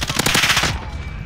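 An M13 gun firing in a first-person shooter video game, a rapid burst of automatic shots for about a second, close and loud, then a short fading tail.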